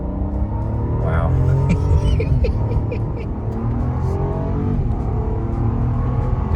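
A 2022 Rolls-Royce Ghost Black Badge accelerates hard, its engine rising in a strong, steady roar heard from inside the cabin, loud and continuous with some wind and road noise.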